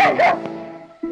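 A dog gives a short whining yelp with a high, sliding tone, followed by a brief lower bark near the end.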